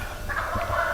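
A turkey gobbles in a short, rapid burst of warbling calls, moderately close, over faint background noise.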